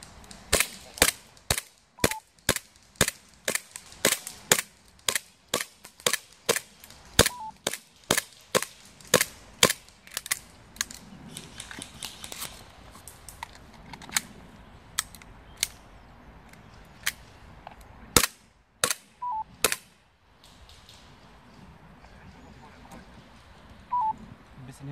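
Airsoft guns fire during a game in a forest. Sharp single snapping shots ring out at an irregular pace, some close and some farther off, over quiet woodland background and light talk.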